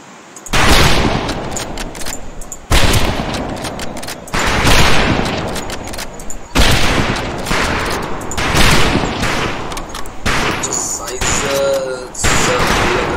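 A rifle volley on a firing range in Medal of Honor Pacific Assault, with loud, repeated bursts of gunfire that come in waves and pause briefly between them, all without talk.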